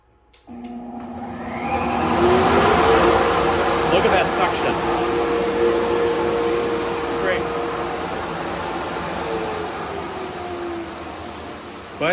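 A Grizzly H5783 canister dust collector switches on and spins up to a steady, loud roaring whoosh of suction that holds for about eleven seconds, with a slight tonal hum riding on the broadband rush.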